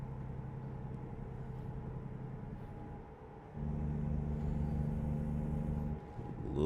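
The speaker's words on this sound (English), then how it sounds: "Engine brake it again." Engine braking on an MCI bus in American Truck Simulator: a steady low engine drone dips briefly, then kicks back in with a stronger rumbling tone, fading and returning at the end.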